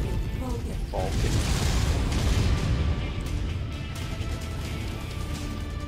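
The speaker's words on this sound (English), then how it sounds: "We're in the airstrike, John." Airstrike explosions in the video game MechWarrior 5: Mercenaries rumble as a continuous low, heavy barrage under a mech's engine drone. A voice talks over the booms.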